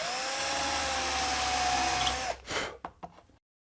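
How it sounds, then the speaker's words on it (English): A drill countersinks screw holes in a wooden table saw sled, giving a steady high whine for about two seconds that then winds down, followed by a few short clunks. "I'll come back here and countersink these"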